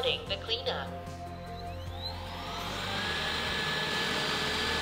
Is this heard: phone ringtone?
no